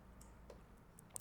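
Single short sharp tap click on a Qolsys IQ security touch panel screen, brief and close against a quiet room.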